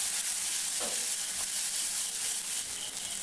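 Ginger and whole cumin paste fries in hot oil in a pan, producing a continuous close, dense sizzle with occasional stirring scrapes.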